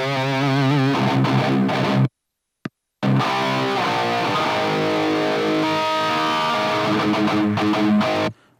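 Loud, tightly chugging high-gain electric guitar with heavy palm muting, cutting off abruptly for a brief silence before the crunchy riffing resumes and rings to the end.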